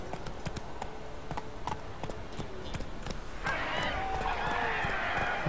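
Horse hooves clip-clop in The Witcher 3, a steady galloping rhythm of close, sharp thuds that runs throughout and continues under a rising wash of game ambience midway.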